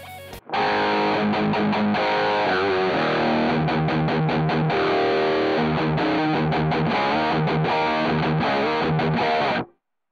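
Electric guitar played through the drive channel of a Zoom G5n multi-effects unit with a blended mic simulation, sounding as a loud distorted run of picked notes and chords for about nine seconds that then cuts off to silence.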